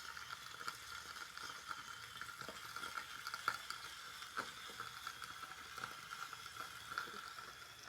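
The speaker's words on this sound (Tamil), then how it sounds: "தக்காளி ஆட் பண்ணியாச்சு. வதக்கிக்கலாம்." Onion and tomato being sautéed in a pan make a faint, continuous sizzle with light scraping stir clicks, quiet and close, with no talk.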